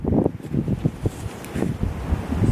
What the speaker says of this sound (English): I am sorry, it's windy out here.